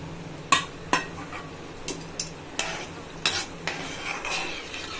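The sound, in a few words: stirring boiling pea masala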